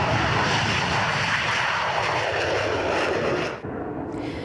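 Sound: military attack aircraft and bombers taking off

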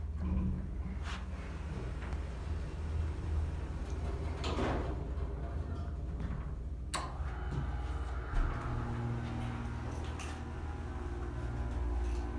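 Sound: Otis Series 5 elevator doors closing and reopening

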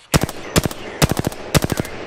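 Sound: gunfire in the video game Apex Legends

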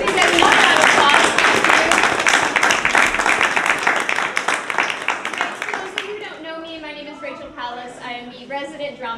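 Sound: audience applause after a theater show

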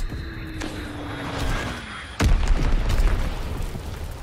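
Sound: enemy bomb explosion in a video game

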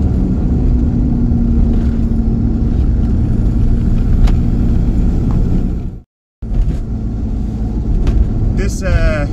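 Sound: VW T25 T3 camper with TDI engine driving

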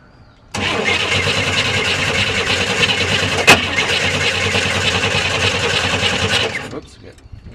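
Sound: 1966 Corvair engine cranking and trying to start

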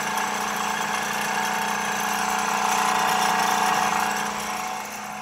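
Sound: mill machine milling wood

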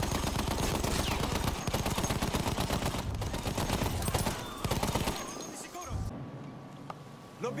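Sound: machine gun fire in video game Battlefield 1

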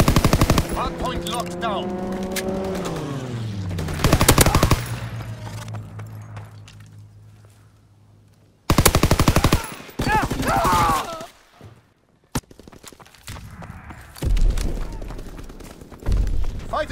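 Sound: fighter aircraft strafing gunfire in a video game

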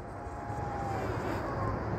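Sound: FPV drone flying high in air mode

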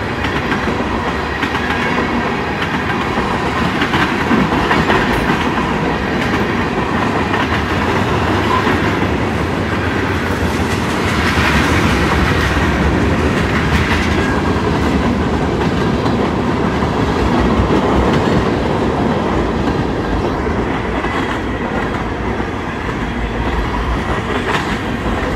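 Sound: CSX freight train passing

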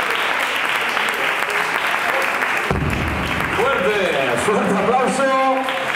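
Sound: audience applause for dancers

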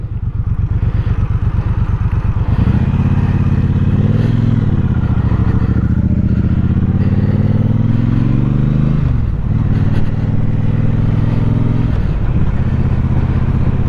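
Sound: 2021 Triumph Speedmaster motorcycle pulling away in first gear

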